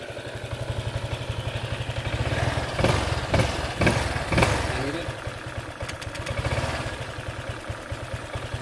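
Honda PCX scooter engine idling right after its first start, a steady low rumble with faint clatter, some louder revving bursts in the middle, and people talking nearby.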